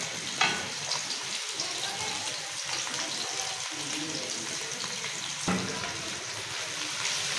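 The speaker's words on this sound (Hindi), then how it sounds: "कुकिंग ऑयल गर्म हो गया, अब इसमें प्याज ऐड कर देंगे।" Onions sizzle and crackle in a cup of hot cooking oil while chicken qorma is being made, a loud steady frying hiss with a few brief clatters of stirring, heard up close.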